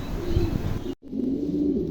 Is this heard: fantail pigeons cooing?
yes